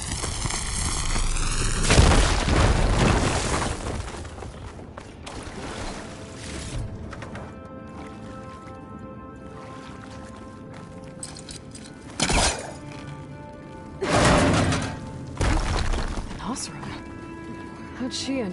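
Explosions blasting through a tunnel blockage in Horizon Forbidden West: a heavy boom early on, then two sharper blasts later, spaced among quieter rumbling game ambience.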